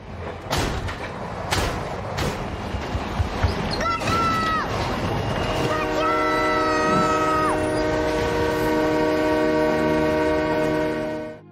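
A moving train rumbles and clatters along the rails, then a loud, sustained train horn blares for several seconds over the steady rolling noise, with a voice briefly heard early on.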